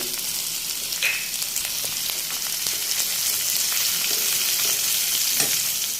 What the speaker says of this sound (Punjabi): ਪਿਆਜ਼ ਨੂੰ ਬਰਾਊਨ ਹੋਣ ਤੱਕ ਆਪਾਂ ਭੁੰਨਣਾ ਪਿਆਜ਼ ਦੇ ਨਾਲ ਹੀ ਲਸਣ ਔਰ ਹਰੀ ਮਿਰਚ ਪਾ ਦਾਂਗੇ